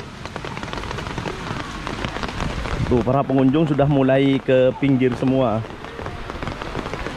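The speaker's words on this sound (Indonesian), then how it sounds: "Cuman karena masih hujan" Heavy rain pours steadily on surfaces in Pamekasan, Madura, a dense continuous hiss running the whole time while someone talks over it.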